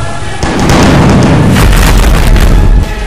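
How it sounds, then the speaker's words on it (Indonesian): Cannon fire from land and sea in a battle scene at the siege of Constantinople, heard as a dense, sustained rumble of heavy booms and blasts, loud and continuous with a deep low roar throughout. "Seluruh meriam ditembakkan dari darat dan laut."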